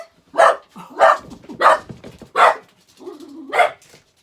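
A dog that has just been woken gives five loud, close barks at a steady rhythm, ending in a longer whining yip, with no talk over it.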